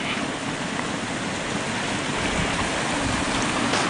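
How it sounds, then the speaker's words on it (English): A creek swollen into white water roars continuously and loudly, a dense, unbroken rush of water close by with no speech over it. "And the creek is just roaring. And as you can see, it's white water"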